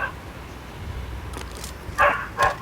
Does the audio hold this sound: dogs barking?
yes